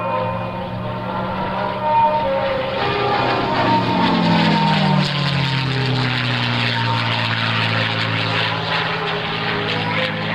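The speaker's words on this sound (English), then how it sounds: "Highly maneuverable fighter aircraft from World War II." A World War II fighter with a propeller engine flies past at an air fair, a loud roaring drone whose pitch sweeps downward as it passes close overhead, then continues steadily.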